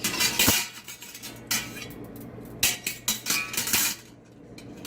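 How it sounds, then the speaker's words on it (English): A small metal rack supplied with an Instant Pot is set down into the pot, giving several light metallic clinks and clatters in a short burst, close and fairly quiet. "And then I'm just going to put this little rack that came with the Instant Pot into the pot."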